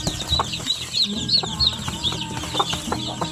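A flock of Zamboanga native chicken chicks and hens clucks and cheeps continuously, with repeated high peeps over a busy low murmur of clucking, all close and lively.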